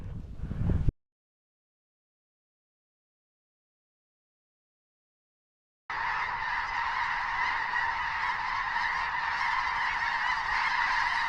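Geese honk during a waterfowl hunt: a brief burst of calls, then a long silence, then a sustained chorus of honking that carries on steadily to the end.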